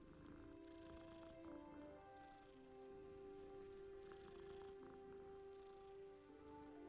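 A solid black cat in the video game Hogwarts Legacy purrs softly and steadily, a low continuous hum sitting under layered game music and ambient tones.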